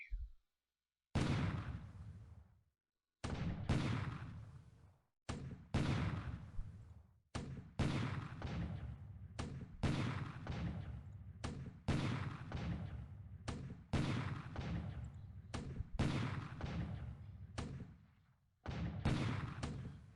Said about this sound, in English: Got some inshore bombardment going on here, those troops.